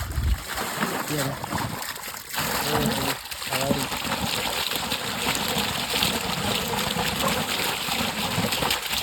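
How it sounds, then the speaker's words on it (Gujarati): Irrigation water flows and splashes steadily along a channel into a brinjal (eggplant) field on a farm, a continuous rushing wash heard up close with voices talking over it. "આ વરસાદ કે આવતો નથી એટલે પાણી વાળવાનું ચાલુ કર્યું છે"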